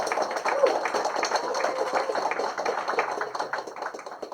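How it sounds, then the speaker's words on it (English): A roomful of people at a Crypto Hub Malta presentation applauds a speaker, giving sustained, crisp, fairly near hand clapping with individual claps distinct, tapering off slightly at the end. "Everyone, a warm applause."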